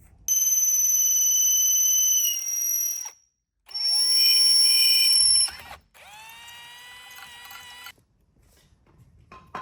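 A cordless power drill whines in three separate high-pitched bursts with short gaps between them, the second and third starting with a rising spin-up, then near-silence with faint movement at the end.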